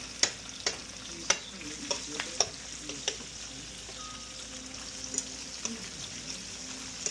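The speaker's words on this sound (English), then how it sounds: "But saute my onions." Onions sautéing in a pan for cubed steak gravy, a quiet continuous sizzle broken by regular sharp clicks of a utensil stirring and scraping the bottom.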